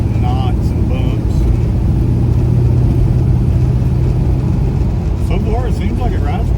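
A Pontiac GTO fitted with QA1 coilovers rumbles along a rough pea-gravel road full of bumps, with steady road and engine noise throughout and a person talking over it.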